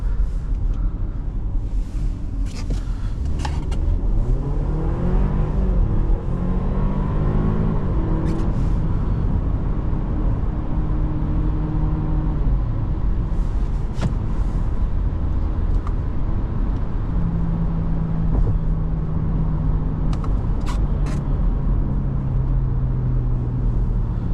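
2022 Audi A4 Allroad engine pulls through rising revs under load, the rumble climbing in pitch, easing at a shift and climbing again, heard from inside the cabin with steady road noise.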